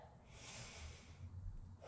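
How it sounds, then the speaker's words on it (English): Deep, slow breaths drawn in and let out during a full-body stretching routine, soft and close with a steady airy rush that swells and fades, no talking over it. "take two big deep breaths here"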